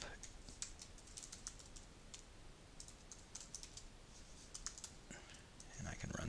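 Typing on a computer keyboard, quick irregular bursts of light key clicks close by, fairly quiet, ending in a louder clatter.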